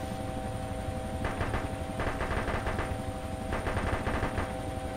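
Bursts of automatic gunfire from a video game gun shooting at an enemy helicopter, two or three rapid volleys over a steady background hum, with no talking.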